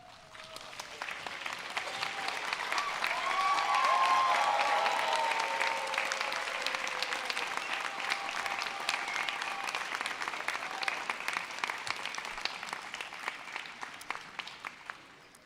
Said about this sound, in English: So let's give them a good round of applause.